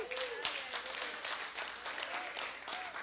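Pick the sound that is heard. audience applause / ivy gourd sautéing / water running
audience applause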